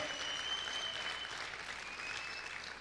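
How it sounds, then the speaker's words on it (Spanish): Steady, dense applause from a sizeable church congregation fills the whole stretch, even and sustained without pause. "Aplaude fuerte al Señor."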